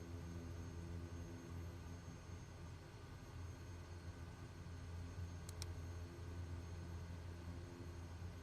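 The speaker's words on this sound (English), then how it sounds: "taking off runway 36" Aircraft on takeoff in the Microsoft Flight Simulator 2020 video game, a steady droning engine hum with tonal layers holding constant throughout, with a faint brief beep near the end.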